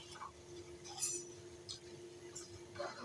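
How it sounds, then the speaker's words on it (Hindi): A metal spoon stirs sugar syrup for raw mango murabba, giving a few light, scattered clinks against the pot over a quiet kitchen background with a faint steady hum. "अब चम्मच चला कर ना आपने मिक्स करना है।"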